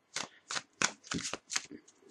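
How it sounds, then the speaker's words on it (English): Tarot cards are riffled and shuffled in six quick bursts, each a crisp papery flutter with short pauses between, close and fairly quiet. "I'm just going to shuffle 4 more times."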